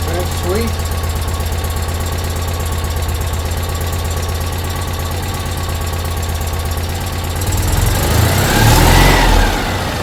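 Citroen 2CV engine running steadily after an oil change, a close mechanical putter that rises into a brief louder rev near the end, with no speech over it.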